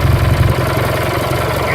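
A Craftsman lawn tractor engine idles steadily through an aftermarket muffler mounted under the running board, giving a loud, close, even low thrum with a rapid pulsing beat and no talk.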